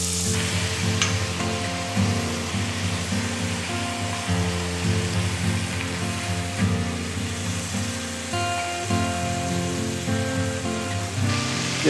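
Garlic fries in a generous layer of olive oil in a cooking pot, giving a loud, continuous sizzle close by, with occasional scrapes and clinks from stirring.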